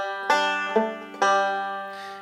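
Banjo picks the second ending of the fiddle tune June Apple, three bright plucked notes ringing out and decaying cleanly, close and solo with no talking.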